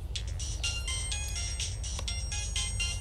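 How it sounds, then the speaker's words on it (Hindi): A phone ringtone plays in repeated bright melodic bursts, fairly faint and steady over a low background hum. "किसका फोन है?"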